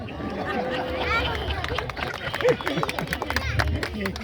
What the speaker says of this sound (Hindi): ऐसी छुटपुट तालियां मत बजाओ, एक बार जरा ढंग से बजा के दिखाओ।